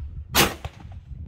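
A Beretta 694 shotgun fires once at a clay target outdoors, a single loud sharp report followed by a short fading echo.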